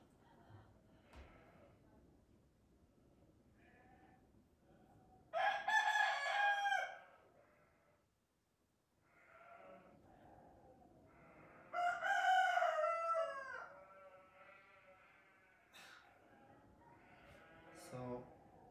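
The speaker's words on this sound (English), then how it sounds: "That's what happens when we have so many roosters." Roosters crow twice in long, loud bursts several seconds apart, with quieter clucking and bleat-like animal sounds in between.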